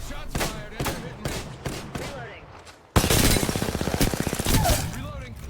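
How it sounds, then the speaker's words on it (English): Gunshots in Apex Legends, first spaced single shots under a player's talk, then a loud sustained burst of rapid automatic fire that continues to the end. "Shots fired and they're hitting me."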